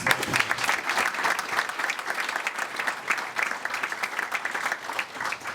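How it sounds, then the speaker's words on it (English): A hall crowd at a college athletics hall of fame induction applauds the coaches with sustained, lively clapping from many people, even and continuous with a few faint voices underneath. "Maybe one big more round of applause for all those coaches."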